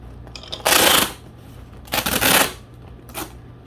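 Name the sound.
taping up a plant shipping box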